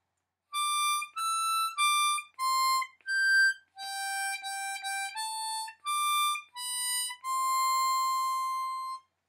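Harmonica plays the closing line of We Wish You a Merry Christmas, a clean run of distinct sustained notes ending on a long held tone, with no voices.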